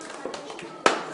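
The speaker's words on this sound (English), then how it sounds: "Yay, clapping." Children at a fourth birthday party give a few light, scattered claps followed by one sharper clap, faint and brief with little else around.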